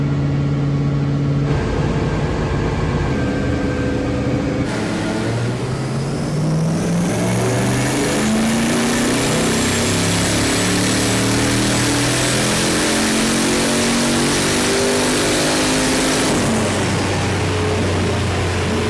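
A Nissan 200SX fitted with a 4.0 V8 roars through repeated full-throttle pulls on a dyno, its pitch sweeping up through the revs and dropping back between runs, loud and close throughout with no talking.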